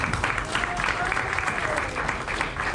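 A church congregation claps together in a steady, moderately distant wash of applause that lasts a few seconds, with no speech over it.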